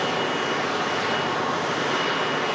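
A jet airliner leased from Air Tanker, usually flown by the Royal Air Force on refuelling work, roars steadily nearby with a broad, continuous engine noise across the whole stretch and no talking.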